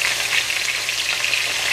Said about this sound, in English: browning the oxtail a little bit. But you could also be, it's technically frying it as well